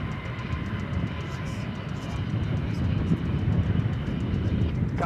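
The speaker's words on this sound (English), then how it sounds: "So here goes the big jet off to the Hawaiian Islands." A big jet airliner takes off at DFW Airport, its engines giving a broad, steady roar that swells slightly as it climbs, heard from a distance.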